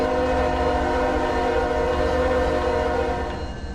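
A simulated train in Trainz Railroad Simulator 2019 sounds a long, steady horn over the low rumble of the locomotive, tapering off near the end.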